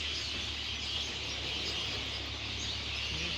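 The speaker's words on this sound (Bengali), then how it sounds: "শুনুন পাখির কিচিরমিচির ডাক।" Birds chirping faintly on a foggy winter morning, soft scattered calls over a steady low outdoor hum and hiss, heard from a distance with no voices.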